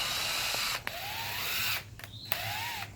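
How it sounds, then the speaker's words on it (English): A power drill drives self-tapping screws into fiberglass, its motor whine rising and falling in short bursts with brief pauses and small clicks between runs. "I'm just going to start some holes with these self-tapping screws"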